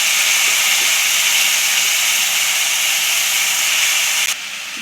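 Boiled jujube sizzles in hot mustard oil with five-spice and dried red chilli for a sweet pickle, a loud steady hiss that drops off abruptly near the end.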